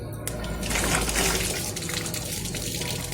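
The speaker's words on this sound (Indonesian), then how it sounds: "Oke, kita buka aja keran yang kuning." Water gushing from an opened tap on a well water treatment system, a strong steady rushing splash close by that continues throughout.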